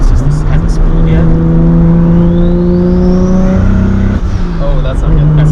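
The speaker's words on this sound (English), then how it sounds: "here we are in a 1995 Toyota Supra with 400 horsepower, big single turbo, and I have no boost" A tuned 1995 Toyota Supra with a big single turbo, around 400 horsepower and running without boost, roars loudly as it accelerates from inside the cabin, engine pitch climbing steadily with a rising turbo whine before easing off, while people talk over it.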